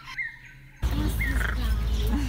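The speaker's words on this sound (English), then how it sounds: "This is how it sounds in the rainforest." Rainforest birds call loudly over a dense, constant background din, with rising and falling whistled chirps repeating through a busy wall of noise after a quieter opening.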